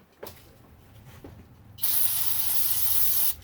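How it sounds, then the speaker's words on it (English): Brake cleaner sprays from an aerosol can onto a rag in an engine-rebuild workshop: a couple of faint taps and handling clicks, then one loud, close, continuous spray hiss lasting about a second and a half before cutting off. "Then I'll take some brake cleaner."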